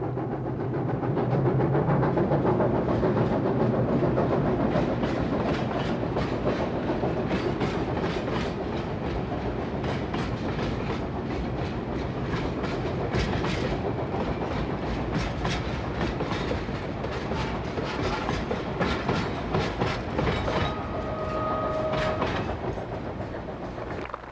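A train rolls steadily along the tracks through the Tian Shan Mountains, rhythmic clickety-clack of wheels over rail joints under a continuous rumbling drone, heard from on board.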